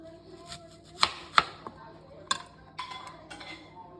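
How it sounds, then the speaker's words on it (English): Knife slicing an onion in half on a cutting board nearby, two sharp thuds close together followed by a couple of lighter taps and faint board scrapes. "cut your onion in half in the same direction."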